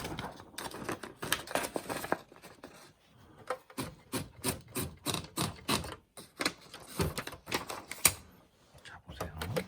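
Rapid mechanical typewriter keystrokes clatter in uneven bursts, close and fairly loud, with brief pauses between runs of keys.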